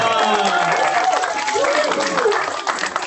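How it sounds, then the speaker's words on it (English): Applause from an audience at a Black History Month expo performance, a dense spread of clapping and crowd noise with voices mixed in, lasting throughout and thinning toward the end. "Please give her a round of applause"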